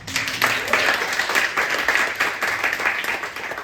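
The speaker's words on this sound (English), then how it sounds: "Please give him another round of applause." Audience applause at a BarefootLaw 10th anniversary celebration in The Hague: dense, sustained clapping from a crowd, loud and steady for a few seconds.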